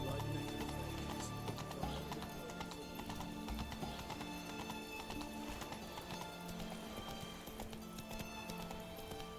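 Horse hooves clip-clopping at a gallop in The Witcher 3, a steady rapid rhythm with game ambience and an occasional whinny, moderately close and continuous with no talking.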